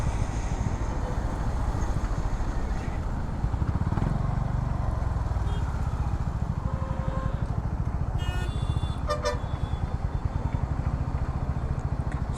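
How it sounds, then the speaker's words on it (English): A Honda CB350RS motorcycle's exhaust rumbles steadily and close while riding on a highway between Bengaluru and Tirupati on a cloudy day, a continuous loud engine drone mixed with wind noise. "My bike is roaring today, dude."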